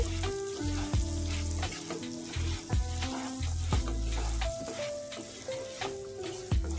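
Rice grains being lightly fried for Bengali basanti polao, giving a steady sizzle in a pan, broken by repeated scraping and stirring clatters, with tonal background music running throughout.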